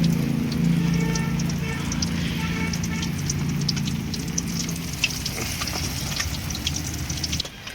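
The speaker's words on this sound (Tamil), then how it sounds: "நல்லா மழை பெய்யுதுங்க." Heavy rain pours steadily and close, a dense continuous wash of falling water with a low rumble underneath, unbroken for the whole stretch.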